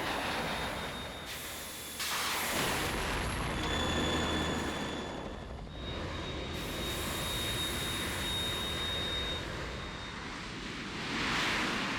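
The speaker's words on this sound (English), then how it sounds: "The Kasaka can't stand up to the Harrier. You have to shoot the Harrier down." A Harrier jet in the PS3 release of Metal Gear Solid 2: Sons of Liberty, during a boss fight, gives a loud, continuous roaring rush with a thin high whine that swells and dips in waves, with no talk.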